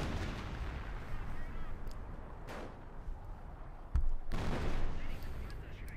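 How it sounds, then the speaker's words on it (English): Company of Heroes 25 pounder artillery fire, heard as several distant booming shots and a heavier blast near the end over a rumbling battle bed. "But there you go, more 25 pounder gunfire here."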